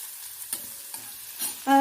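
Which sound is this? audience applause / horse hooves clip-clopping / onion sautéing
onion sautéing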